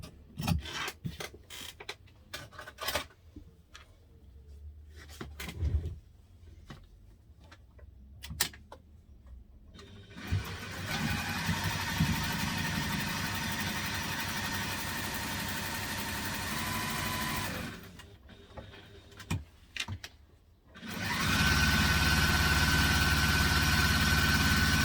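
A sewing machine stitches a backpack pocket shut, starting with scattered clicks and brief bursts, then running in a long, steady whirring stretch, pausing briefly, and starting up again loudly near the end.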